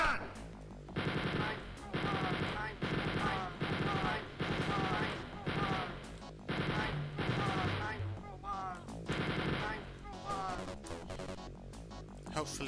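Repeated bursts of chain gun fire in a custom Wolfenstein map, roughly ten rapid rattling volleys separated by short gaps, loud and close, with a voice talking over them.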